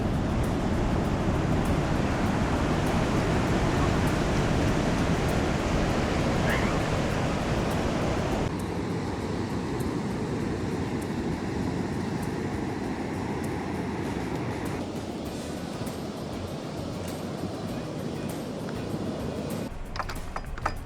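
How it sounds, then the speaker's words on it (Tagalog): Ocean surf rolls continuously onto the beach near St. Johns County Pier in St. Augustine, Florida, a steady broadband wash of breaking waves heard up close with no talking. "Ganyan pa rin yung alon."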